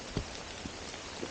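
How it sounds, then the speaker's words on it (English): Rain falling on a mountain trail during a hike down Wildcat D, a soft steady hiss with a few faint drop taps spaced through it, fairly quiet and with no voices. "I've never climbed in the rain before"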